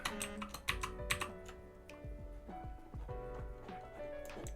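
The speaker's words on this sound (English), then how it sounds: "I was typing in something." Typing on a computer keyboard while writing quotes for web development: quick, irregular key clicks and clacks close by, bursts of taps with brief pauses, no talking.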